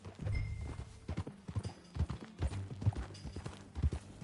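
Horse hooves clip-clop at a steady riding gait in Red Dead Redemption 2, a close, rhythmic run of hoofbeats over a low rumble, with no one talking.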